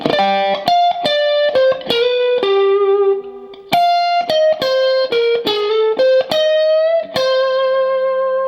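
Overdriven electric guitar plays a bluesy lead phrase of sustained, bent notes with vibrato, loud and close, no talking.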